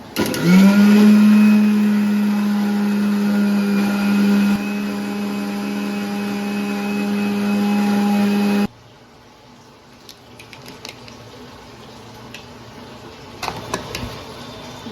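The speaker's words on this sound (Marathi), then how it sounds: "मिरच्या पण झाल्यात ग्राइंड" A kitchen mixer grinder whirs loudly and steadily as it grinds spinach and green chilies, then switches off abruptly, leaving quiet with a few small clinks and knocks.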